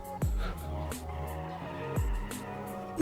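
A 1950s car drifts through a tight corner in a racing video game, its engine droning with sharp revs as tires squeal, with abrupt throttle drops and pops near the start and again about two seconds later.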